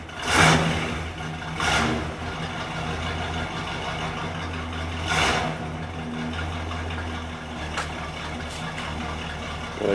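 Close, steady idle of a 1976 Chevrolet Suburban warming up after a cold start, its glasspack exhaust giving a deep rumble broken by a few sharp throttle blips, with no voices over it.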